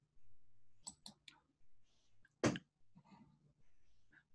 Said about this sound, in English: Then, click on Add.